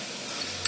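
Biryani masala with green chilli and coriander frying in a pan, a steady close hiss and sizzle with a faint stir near the end, no voices.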